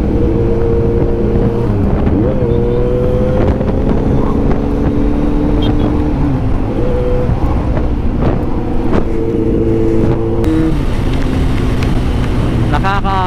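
A motorcycle fitted with a full exhaust system rides along a boulevard, its loud engine drone rising and falling steadily throughout, with wind buffeting the microphone.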